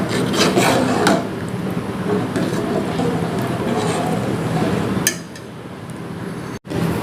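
Powdered milk stirred into simmering basundi gives a close, continuous scraping and rubbing of a spoon against the pot, with a brief clink near the end.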